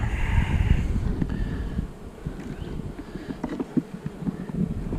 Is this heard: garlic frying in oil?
no